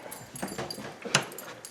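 A dog whimpers and yips softly in a home garage, a few faint thin cries scattered over quiet room noise, with a slightly sharper yelp near the end.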